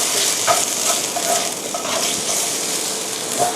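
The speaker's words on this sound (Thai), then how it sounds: "ถ้าเกิดมี การที่จะต้องผัดผักเนื้อแข็งแบบนี้นะคะ" Carrots and other hard vegetables stir-fried in a pan for mee sua noodles, giving a steady close sizzle with scraping stirs and clacks of a utensil throughout.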